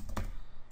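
Quick, close keystrokes on a computer keyboard, a few soft clicks in rapid succession over less than a second.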